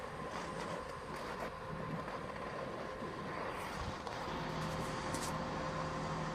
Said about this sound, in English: This train should leave.